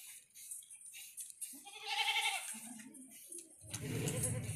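Goats bleat at a goat farm, a few distinct nearby cries over faint background noise, with no talking.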